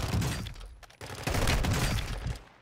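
Gunfire in the Warzone video game: dense, rapid bursts of shots fill the clip, briefly dropping out near the one-second mark before resuming loudly, with no talk over it.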